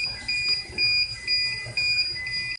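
A hoverboard just unplugged from its charger gives a repeating electronic alarm: a series of high, clear beeps in short bursts with brief gaps, close and fairly loud over faint background noise.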